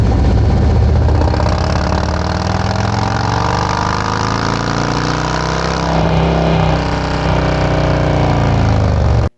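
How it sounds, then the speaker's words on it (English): A Harley-Davidson motorcycle engine with a Screamin Eagle Stage 1 upgrade runs steadily at high speed on a dyno, a loud continuous drone with shifting harmonics as the revs change. "Now, let's put it on the dyno and show you what we get."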